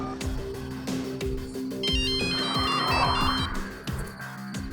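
A phone ringtone plays steadily while a call is placed, a melodic electronic tune repeating for several seconds with no voices over it.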